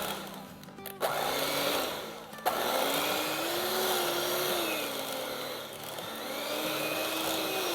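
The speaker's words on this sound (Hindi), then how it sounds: "तो इसको अब हम थोड़ा सा व्हिप करते हैं" Room-temperature unsalted butter is whipped with a mixer for zeri biscuits, giving a steady whirring motor hum with wavering pitch, interrupted by two sharp clicks as the beaters knock the bowl.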